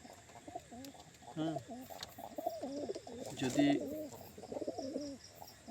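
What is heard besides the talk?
pigeons cooing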